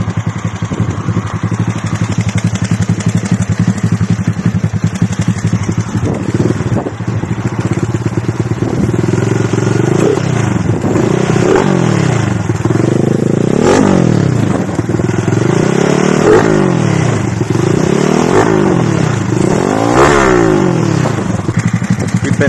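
A small 50cc Lifan moped engine revs repeatedly, rising and falling in a series of rhythmic throttle blips over a steady buzzing idle, close and loud.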